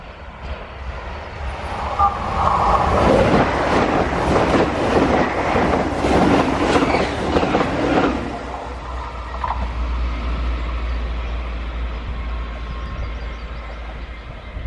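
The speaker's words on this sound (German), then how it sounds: "Und da kommt auch schon ein ICE3, der ganz sicher hier direkt vor meine Füße vorbeifahren wird." An ICE 3 high-speed train sweeps past very close on a curve, a loud broadband rush with rhythmic wheel clatter that builds and then fades into a lower rumble as it moves away.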